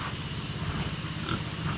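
Pigs on a small hillside farm in the Philippines grunt and oink continuously, lined up and waiting to be fed, over a steady low murmur of farmyard noise.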